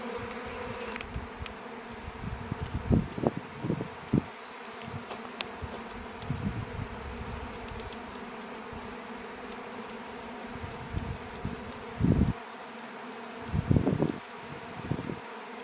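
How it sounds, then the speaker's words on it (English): A swarm of honey bees drones in a constant low buzzing hum, with individual bees now and then passing close and briefly swelling louder. "They're swarming again."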